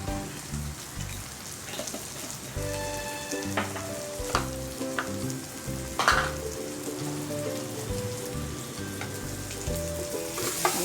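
Rasam with tomato being stirred in a pan gives a steady, close sizzle with scraping spoon strokes throughout, no talking.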